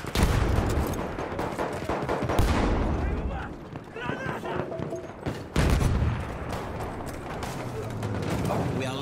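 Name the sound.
Lewis gun machine gun fire in video game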